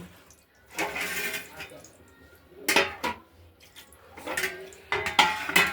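Water drains from freshly washed mustard greens in a metal pot, with clattering vessel knocks, splashes and trickles in short bursts.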